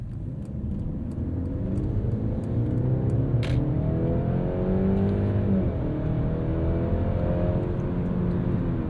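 A 2022 Mercedes-Benz C300 4MATIC sedan with a 9-speed automatic accelerating from inside the cabin, its engine hum rising steadily in pitch through smooth upshifts, loud and continuous.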